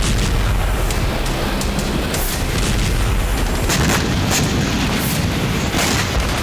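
Explosions roar through the Ukrainian missile attack on the Dzhankoi base in Crimea, a dense and continuous wall of loud rumbling with sharper bursts cutting through.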